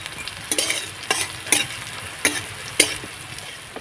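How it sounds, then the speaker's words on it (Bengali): Chopped coconut and carrot being stir-fried in a pan: a steady soft sizzle broken by about six sharp spatula scrapes and clanks against the metal at uneven intervals, close and clear with no voices. "একটু নাড়াচাড়া করে ভেজে নেব।"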